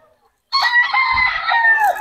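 A rooster at a Bocaue market crows once, loud and close, a sustained strained call that begins after a brief silence.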